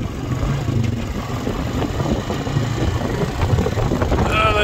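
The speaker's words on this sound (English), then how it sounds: "Very windy here today." Strong wind blowing across an open sheep farm during lambing season, a steady rumbling roar buffeting the microphone with no clear pauses.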